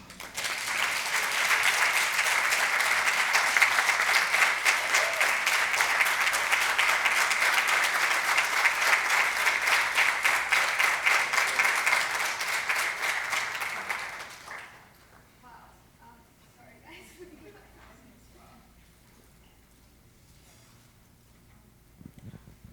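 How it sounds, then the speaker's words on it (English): Loud, sustained applause from an audience at a talk on patient transitions across the life span, filling about fifteen seconds before cutting off abruptly into near silence with faint room noise. "Another big round of applause for them."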